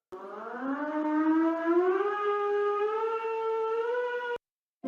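Russian emergency alert system warning siren: one long, loud rising and gently wavering electronic wail that holds for about four seconds and then cuts off abruptly, heard alone.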